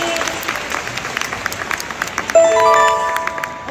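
An audience claps at a community gathering, close and fairly brisk, with scattered hand claps continuing throughout. Partway through, a bright ringing tone joins the clapping and lingers to the end.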